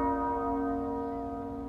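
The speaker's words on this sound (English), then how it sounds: "It's the sound of the huge bell that hangs over the Great Sept," The huge bell of the Great Sept in Game of Thrones rings once with a loud, deep, sustained tone whose rich overtones hang and slowly fade.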